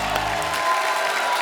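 A studio audience on The Kapil Sharma Show bursts into steady, close applause that fills the short moment without any voices on top.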